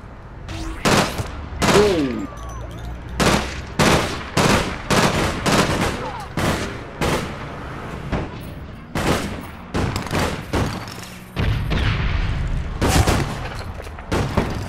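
Gunfire from the online game APB Reloaded rings out in a fast series of sharp, loud shots and short bursts, spaced irregularly across the stretch.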